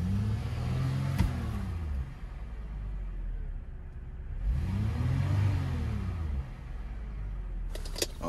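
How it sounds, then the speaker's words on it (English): A cheap used car at a dealer-only auction revving as the gas is pressed, two rising-and-falling engine swells over a steady idle rumble, close by with no talking. "Gonna hit this gas and see what we can hear."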